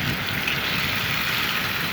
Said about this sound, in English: Nothing like the sound of sizzling bacon